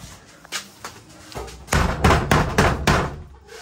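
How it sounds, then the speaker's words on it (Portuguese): Knocking on a house door: a few light, scattered raps at first, then a run of loud, heavy pounding blows in quick succession. "bate logo na porta"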